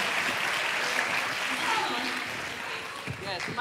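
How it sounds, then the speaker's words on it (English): A conference audience claps after a panel session, the applause fairly dense at first and thinning out, with voices mixing in toward the end. "give her a round of applause"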